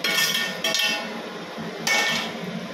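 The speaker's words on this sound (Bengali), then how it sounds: "আর এতে ভেজে রাখা চিকেনগুলো আমি অ্যাড করে দেবো।" Fried chicken pieces being added to a pan of chilli garlic black pepper sauce, with metal clinks and scrapes of a utensil against the pan, two louder bursts of clatter amid steady kitchen noise.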